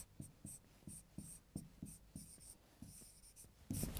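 Pen strokes scratching across paper at a steady pace while working through answers to a written reasoning test question, with a quick series of short, close scribbles and brief pauses between them and no talking.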